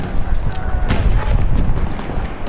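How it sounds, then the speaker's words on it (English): Sniper rifle fire in a shooter video game, a loud, dense burst of booming shots and echoing blasts packed close together, filling the short stretch with heavy low rumble. "Cheeky little double with the sniper."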